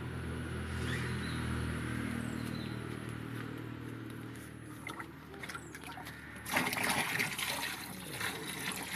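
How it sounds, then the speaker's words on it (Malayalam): Low background rumble, then well water suddenly gushes and splashes loudly into a fish tank for the last few seconds. "നമ്മളിതിൽ ഒഴിക്കുന്ന വെള്ളമെന്ന് വെച്ചാൽ കിണർ വെള്ളമാണ്, പൈപ്പ് വെള്ളമല്ല കേട്ടോ"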